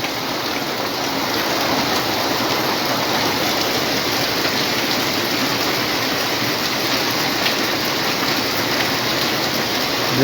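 Heavy, steady rain pours down during a prolonged downpour in Comilla, a dense continuous hiss with no pauses, close and loud throughout.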